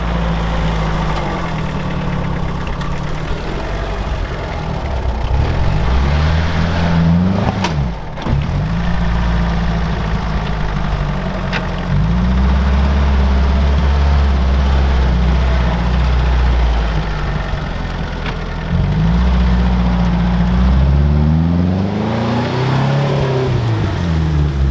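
UAZ off-road vehicle engine labouring up a steep, roughly vertical-metre bank: a loud, close, continuous low growl whose revs repeatedly rise, dip and surge again, with no talking over it.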